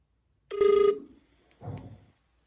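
A telephone ring during an IVR phone-system demo: one loud, short electronic ring burst, followed by a quieter, muffled sound a moment later and then silence.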